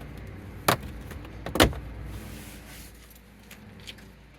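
Plastic trim panel pulled off the dash below the climate control of a Chevy Silverado or GMC Sierra truck, two sharp snapping pops close by, then faint rustling handling.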